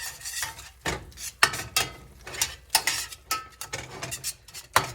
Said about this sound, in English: So we're going to stir in these seasonings.